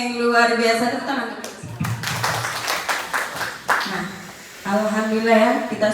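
A group claps hands in a brief burst of about two seconds, loud and near. Spoken talk comes before and after the clapping.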